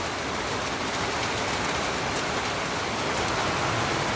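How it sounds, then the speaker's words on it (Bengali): Steady rain pours down outdoors during a spell of bad weather, a dense continuous hiss of drops on surfaces holding even and close throughout with no voices. "দেখো কিরম বৃষ্টি হচ্ছে।"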